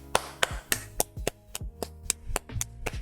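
Loud hand claps close to a microphone, about eleven sharp separate claps in a steady rhythm, each ringing briefly, with no talking.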